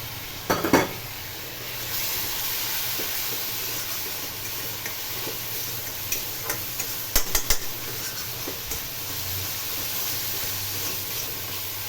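Pre-fried moong dal going into a hot, sizzling pan: a steady frying hiss runs throughout, broken by clattering utensil scrapes and stirring knocks near the start and again in bursts toward the middle, with no talking.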